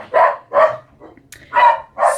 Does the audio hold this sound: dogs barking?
yes